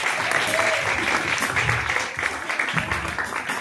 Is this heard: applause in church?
yes